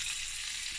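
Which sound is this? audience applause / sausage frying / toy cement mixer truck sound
sausage frying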